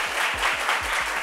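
A studio audience applauds a group in a talk show setting, a dense steady wash of clapping filling the short burst at close range with no voices over it.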